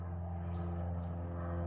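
A propeller airplane droning overhead during home sand casting work outdoors, a steady low hum with strong tonal harmonics, fairly constant and moderately loud in a short stretch with no talk.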